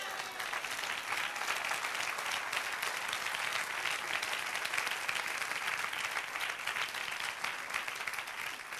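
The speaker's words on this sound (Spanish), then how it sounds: "Dale un aplauso, Señor." Congregation in a church applauding together, a dense, steady wash of clapping that holds at an even level throughout with no voices over it.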